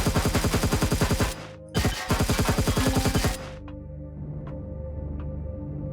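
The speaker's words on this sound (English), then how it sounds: "I'm just waiting for the frickin' gun turrets to appear here." Automatic gun turrets in the sci-fi survival game Empyrion Galactic Survival fire rapid, loud bursts of evenly spaced shots, a brief gap, then another long burst before trailing off into quieter background noise.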